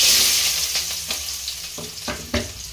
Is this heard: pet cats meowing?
no